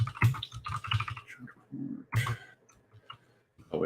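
Someone types on a computer keyboard during a home livestream, with bursts of quick clicks at first, a pause, then a few more keystrokes, all close and moderately loud.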